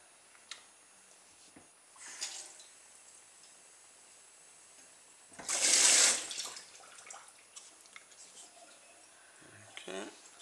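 Water is poured into a plastic container for a baking-powder-powered toy boat, a short splashing burst of a second or so mid-clip against a quiet indoor background with faint handling ticks.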